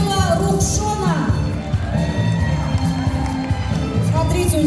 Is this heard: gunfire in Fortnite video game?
no